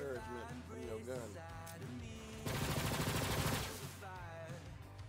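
Video game gunfire, likely from Borderlands: a dense burst of automatic fire lasting about a second, set among synthesized music and game sounds.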